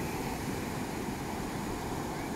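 Strong ocean waves surge toward the shore amid a strong current, a dense, continuous roar of surf and wind that stays loud and unbroken.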